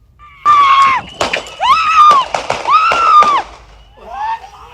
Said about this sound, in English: these 2 agents fire 6 more shots